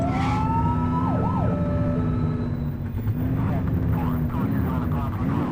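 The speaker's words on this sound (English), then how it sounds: "You're only meant to use the siren in emergencies." A police car siren wails in The Precinct, a video game, its rising and falling tone sounding loud and close over a steady engine hum, with voices talking over it.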